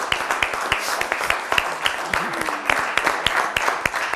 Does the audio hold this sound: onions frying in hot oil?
no